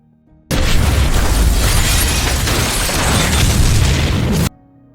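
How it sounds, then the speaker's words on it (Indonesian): A room blows up in the TV series The Mentalist: an abrupt, loud blast followed by a sustained roaring rumble of debris and fire that cuts off sharply after about four seconds. "Dan tiba-tiba ruangan itu meledak"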